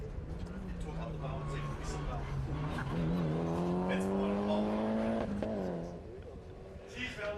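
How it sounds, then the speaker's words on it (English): A Mitsubishi Lancer Evo 6 races on a grassroots sprint circuit, its engine note climbing steadily through the gears at moderate distance before easing off, with a commentator talking over it throughout. "Chris Ching out on circuit now in the Mitsubishi Lancer Evo 6"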